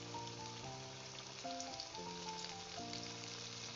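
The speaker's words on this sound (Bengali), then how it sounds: "এইভাবে বেসনে জাস্ট চুবিয়ে যেভাবে আমরা বেগুনি করি সেইভাবেই কড়াইয়ে ছেড়ে দিলাম।" Spiced paneer pieces dipped in gram flour batter fry in a wok of oil over a very low flame, giving a continuous soft crackling sizzle layered over steady sustained tones.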